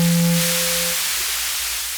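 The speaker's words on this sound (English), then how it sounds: "that's the white noise." White noise from a Moog Labyrinth synthesizer turned all the way up: a loud, steady broadband hiss that briefly carries a fading tone at the start, then continues alone as a slowly dimming wash.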